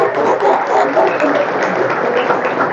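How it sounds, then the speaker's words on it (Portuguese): Audience applause for two presenters at a live event, a dense steady wash of many hands clapping across the whole stretch, moderately loud and continuous with no voices on top. "Elas merecem uma salva de palmas."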